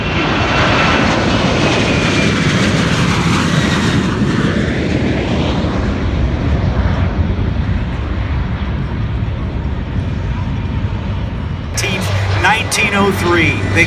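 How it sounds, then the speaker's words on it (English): A Boeing P-8 Poseidon maritime patrol aircraft passes at an air show at NAS Jacksonville, its loud engine roar sweeping in pitch as it flies by, then settling into a steady rumble with sharp clicks near the end. "This is the P.A. Poseidon. They get back to demonstrate their capabilities"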